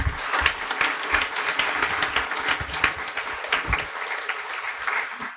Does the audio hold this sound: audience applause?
yes